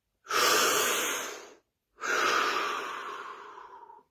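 Two long, deep breaths taken close up during a guided practice session, each a smooth airy rush of about a second and a half, separated by a short silence.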